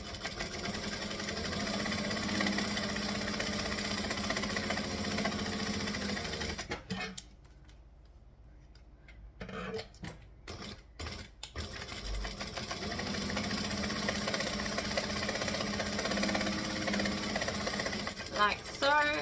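A sewing machine stitching a garment from the Isolina pattern, running in a fast steady whir, stopping for a few seconds with short bursts of back stitching, then resuming its continuous close rattle as a person talks.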